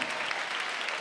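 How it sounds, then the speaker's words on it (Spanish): Studio audience applause on a live television variety show, a sustained wash of clapping at moderate, fairly distant level with no pauses. "El aplauso para ustedes"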